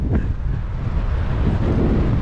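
Steady wind buffeting the microphone on a lakeshore, a loud continuous low rumble with no pauses.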